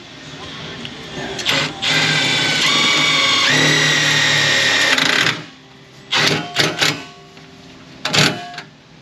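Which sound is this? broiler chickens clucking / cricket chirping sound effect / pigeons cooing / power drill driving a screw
power drill driving a screw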